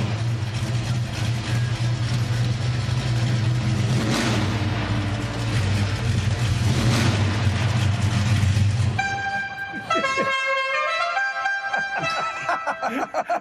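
A loud race car engine roars in a steady heavy rumble for about nine seconds, then cuts away to several sustained horn-like blasts and a final burst of engine noise.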